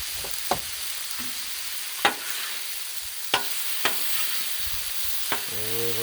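Chili mac frying in ghee on a hot griddle turned up high, a steady close sizzle broken by several sharp scrapes and taps of a spatula, with no talking.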